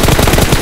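Rapid automatic gunfire in the shooter game PUBG Mobile, a loud close burst of quick repeated shots in an even rhythm with no voices over it.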